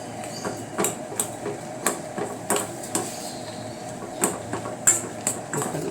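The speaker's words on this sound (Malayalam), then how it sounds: "മത്തങ്ങ നന്നായിട്ട് ഉടക്കട്ടെ കേട്ടോ" Cooked pumpkin is mashed in a pot, with repeated hard knocks of a utensil against the pot at a steady, uneven rhythm, close and fairly loud over a faint room background.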